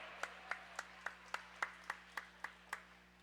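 Ten slow, evenly spaced hand claps from a roller derby crowd at a junior bout, faint and distant over a steady low hum.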